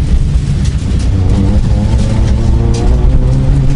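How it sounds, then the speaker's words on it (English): A rally car engine roars steadily at competitive speed on a rally stage, a loud continuous rumble with broadband road and wind noise throughout. "This car's going at competitive speed."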